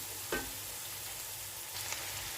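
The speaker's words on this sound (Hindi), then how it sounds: "इसमें मैंने ऐड कर दिया कीमा। कीमे को मैंने अच्छे से वॉश कर लिया था। तो अब हम इसे अच्छे से मिक्स करते हैं।" Chicken keema fries with masala in a pan, a faint, steady sizzle with a couple of brief stirring scrapes, heard alone and quiet.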